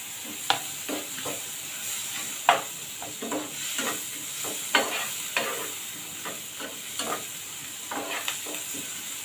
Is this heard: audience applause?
no